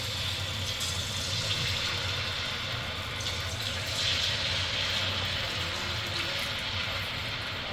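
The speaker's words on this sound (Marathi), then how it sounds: "आपण आता एक पीस त्याच्यामध्ये तळून घेऊया" A piece of chicken frying in well-heated oil on a medium flame gives a steady, dense sizzle and crackle that holds evenly throughout, close and moderately loud with no talking.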